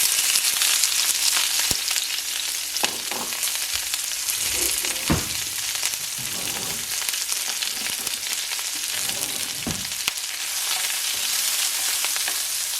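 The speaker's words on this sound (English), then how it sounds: "I'm just gonna let these saute and brown up" Onions sautéing and browning in oil in a pan over high heat for turkey soup, giving a loud, continuous close-up sizzle with a few light stirring clicks and scrapes, and no voices.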